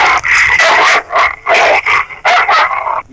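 A dog in a Hindi film scene gives a rapid series of short barks and yips with whimpering tones, loud and close, in quick bursts.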